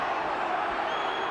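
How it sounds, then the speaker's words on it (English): Stadium crowd at Bruce Stadium during a 2000 rugby league match between the Canberra Raiders and Canterbury Bulldogs, a steady, dense roar of many voices that rises slightly as fans call for a penalty, with no clear single speaker. "Now the crowd getting a little bit frustrated here with the Bulldogs. They're baying for a penalty here."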